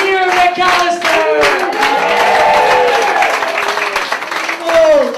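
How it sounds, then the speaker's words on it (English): A live comedy audience at the Edinburgh Fringe claps steadily with scattered cheers and whoops, a dense continuous patter of hands filling the room while voices ring out over it. "And a little bit of clapping now."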